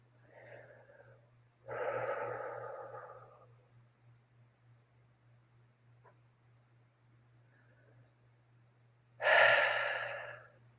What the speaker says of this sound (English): Taking a couple breaths.